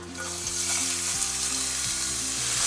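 Crushed ginger, garlic and green chili sizzle loudly in hot oil for an egg dum biryani, a steady close frying hiss with low humming tones beneath.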